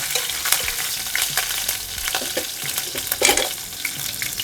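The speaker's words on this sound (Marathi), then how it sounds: "आता मी याच्यामध्ये मिरची घालते आधी थोडी परतायची" Green chillies sauté in a hot pan for a Vidarbha-style ukadpendi, a close, steady sizzle broken by scraping stirs and sharp spattering pops, with no voices.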